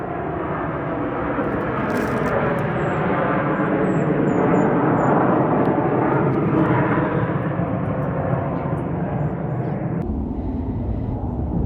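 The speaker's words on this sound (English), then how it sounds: "hear a military jet coming through." A loud, continuous jet roar of two Navy military jets from Whidbey Island Naval Air Station passing overhead at Deception Pass State Park, broad and rumbling, sustained for over ten seconds before easing slightly.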